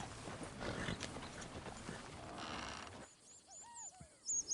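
Horse hooves clip-clopping in the Red Dead Redemption 2 video game, a dense stretch of trotting hoof beats and movement that cuts out partway, followed by quieter sparse sounds and bird-like calls.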